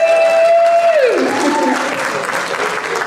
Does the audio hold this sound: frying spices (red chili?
no